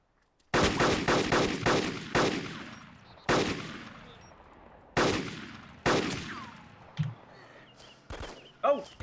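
Gunfire in the video game DayZ: a rapid burst of loud, close rifle shots, then several spaced single shots with ringing tails, ending in a couple of fainter pops and a brief voice.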